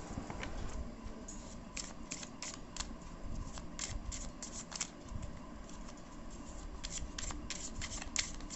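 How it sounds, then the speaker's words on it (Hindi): A deck of tarot cards is shuffled and drawn by hand, making a steady, quiet stream of soft riffling with crisp little flicks and snaps, close up and with no talking. "तब तक मैं कार्ड्स निकाल देती हूँ।"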